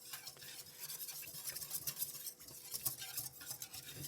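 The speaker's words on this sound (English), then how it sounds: "and we'll whisk that" A whisk works flour into melted butter in a pan, giving quiet, rapid scraping and tapping strokes with a faint sizzle underneath, close and steady throughout.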